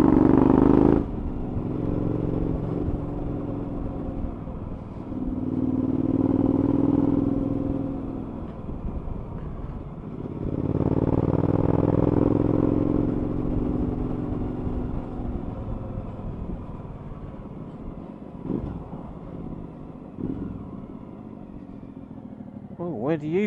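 Suzuki V-Strom 1000 motorcycle pulling away on a road, its engine swelling in two broad surges and then fading, with clatter and traffic-like rumble throughout.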